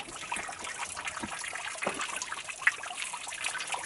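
Clean hill stream water trickles through natural stone and moss, a soft continuous babbling heard close and quiet, with no voices.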